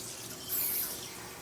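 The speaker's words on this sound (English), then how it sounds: "We're going to measure up some water." Water runs briefly from a kitchen tap as it is measured out for cooking parboiled rice, a soft steady splash that swells slightly in the middle.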